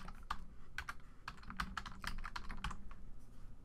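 Typing on a computer keyboard, a steady run of close, crisp key clicks at an uneven quick rhythm with no talking.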